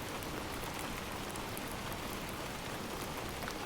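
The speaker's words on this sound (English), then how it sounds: "watching the rain fall once more" Steady rain falls outside a window, a dense continuous hiss of drops that stays even and unbroken throughout, with no voices.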